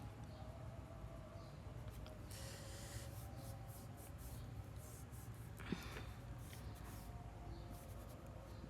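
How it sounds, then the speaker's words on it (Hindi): A teacher writing on a board during a grammar lesson, steady faint scratching strokes across the clip with a brief louder tap, over a constant low hum. "यहाँ लिखती हूँ।"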